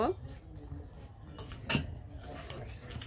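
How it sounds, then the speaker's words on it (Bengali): Katla fish pieces are hand-mixed with turmeric, chili powder and mustard oil in a kitchen bowl, giving soft faint clinks and moist handling sounds, with someone talking quietly over them. "আমি এইগুলা ভালোভাবে উপকরণগুলো মেখে নিব।"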